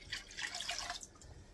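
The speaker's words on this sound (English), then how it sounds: "I'm putting in 4 cups of water." Water running and splashing into a pot while measuring cups of water for home-canned pork and beans, a brief faint trickling burst that fades after about a second.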